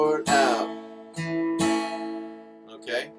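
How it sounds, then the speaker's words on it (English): An acoustic guitar, slightly out of tune, strums chords in a few broad, ringing strokes, near and moderately loud, with no talk over it. "I'm now strumming at this point."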